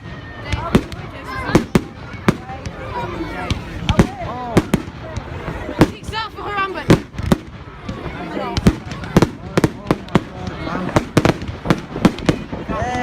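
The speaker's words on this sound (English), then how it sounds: "Oh my god, rapid fire fireworks!" Rapid-fire fireworks at a bonfire gathering burst in a fast run of sharp, loud bangs and crackles, spaced unevenly, while people nearby talk and cheer.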